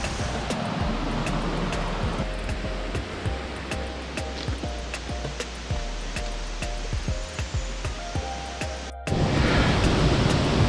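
A waterfall in a river gorge in the Tallebudgera Valley roars as a loud, steady broadband rush, with water spattering close by and the noise surging a little louder near the end.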